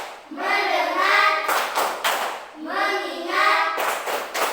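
A rhythmic classroom clap routine alternates voiced chanting with short bursts of several crisp hand claps, up close and loud, in two cycles.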